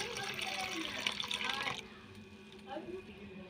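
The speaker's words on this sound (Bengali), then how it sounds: "এটা জল দিয়ে ভালো করে ধুয়ে নেব।" Water splashes and runs over mung dal that was dry-roasted in a wok, the rinsing loud for a couple of seconds and then quieter with small trickles.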